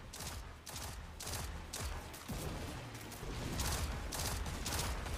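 Gunfire in a competitive shooter game, fired through a wall: a series of evenly spaced sharp shots, loud and close, repeating in a steady rhythm over a few seconds.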